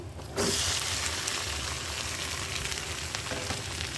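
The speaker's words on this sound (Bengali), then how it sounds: "পেঁয়াজটা ভাজা হয়ে গেছে এখন মেরিনেট করে মাংস দিয়ে দিচ্ছি" Marinated meat hits hot fried onions in a home kitchen pan, bursting into a loud, steady sizzle after a brief quiet start and holding at a constant crackling hiss.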